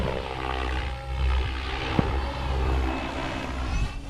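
RC helicopter performing aileron flips, a continuous buzzing rotor and motor whine that swells and dips in loudness, with a brief sharp click midway and no talking.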